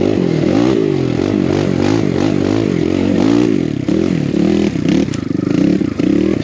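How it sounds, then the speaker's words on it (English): Kawasaki KLX 170 dirt bike ridden through tight, greasy wooded trail, its engine loud and close with rising and falling revs throughout, shifting pitch as it works around trees, with scrapes and clatter from the terrain. "this is exactly where the KLX 170 shines its best, is in these tight wooded sections"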